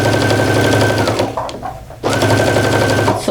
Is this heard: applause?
no